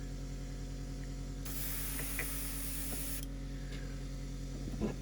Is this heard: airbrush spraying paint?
yes